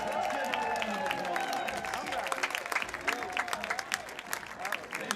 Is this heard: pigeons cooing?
no